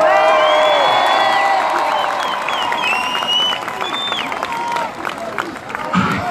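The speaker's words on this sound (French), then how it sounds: "je demande un tonnerre d'applaudissements pour le nouveau parti anticapitaliste" Protest crowd at a rally on a city square applauding and cheering loudly and continuously, with whoops and shouts over dense clapping that slowly thins toward the end.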